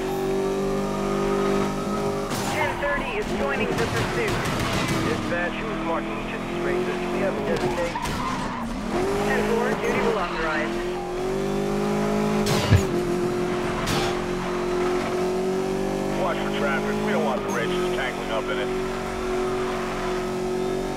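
A Koenigsegg Agera R tears through a race in the video game Need for Speed Most Wanted, its engine droning loudly and continuously with tire squeals and skids layered over it and a voice talking throughout.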